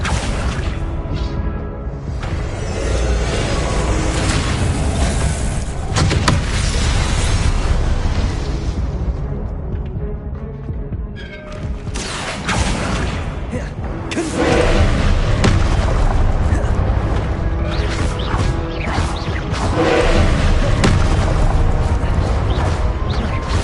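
Confringo blasting spells go off in Hogwarts Legacy combat, producing repeated loud booming explosions and crashing impacts that continue almost without pause, with brief quieter gaps between bursts.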